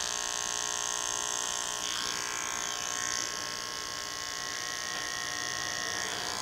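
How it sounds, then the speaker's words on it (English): A T-trimmer electric clipper cuts curly men's hair along a natural hairline, giving a steady close-up buzzing hum with slight shifts in tone as it works the hairline, with no speech. "So I'm working with the trimmer backwards."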